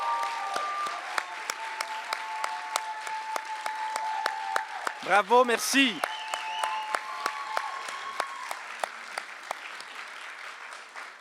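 Sustained audience applause at a French evening ceremony as teachers are called up on stage, steady clapping throughout with a host speaking briefly over it and a short whistle or cheer in the middle.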